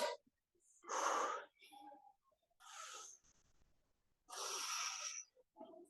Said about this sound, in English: Big breath in, exhale